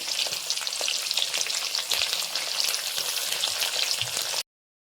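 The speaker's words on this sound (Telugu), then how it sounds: "ఇవన్నీ కొంచెం లైట్గా వేయించుకుందాం మనం" Cumin, mustard seeds, cashews and curry leaves frying lightly in hot oil, a steady close sizzle with crackling pops and occasional stirring that stops abruptly.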